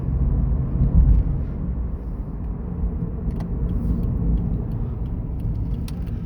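A Scion FR-S car drives slowly around a neighborhood, heard as a low, steady engine and road rumble from inside, with a brief louder swell early on and a few faint clicks.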